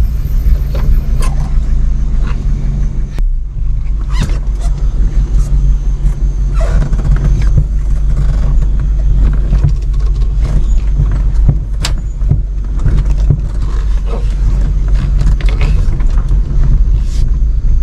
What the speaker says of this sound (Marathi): तर आता आपण आलेलो आहोत प्रॉपर्टीमध्ये. गाडी मस्तपैकी इथे पार्क केले.